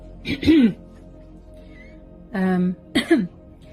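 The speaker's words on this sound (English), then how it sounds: "I've had to clear my throat quite a lot" A person clears their throat a few times, close and loud, in short raspy bursts separated by pauses.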